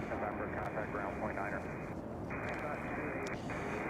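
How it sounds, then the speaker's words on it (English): A Boeing 787 Dreamliner takes off from Chicago O'Hare bound for Munich, a steady, broad jet roar holding at a constant level for the few seconds heard, heard from a distance. "Yeah, that was a Dreamliner. Just took off to Frankfurt, or to Munich, Germany."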